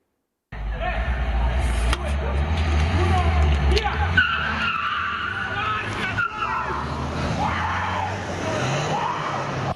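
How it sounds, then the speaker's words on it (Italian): Cars in an illegal street race on Via Tre Venezia in San Liberale, Treviso, roar away on asphalt with tires squealing and skidding, loud engine revs rising and falling under a news narrator's voice. "poi il rombo dei motori e delle ruote sull'asfalto"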